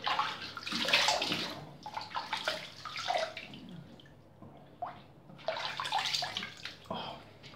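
Tap water runs and splashes into a basin for a cool rinse after a straight razor shave, steady rushing in close bursts with a short lull in the middle.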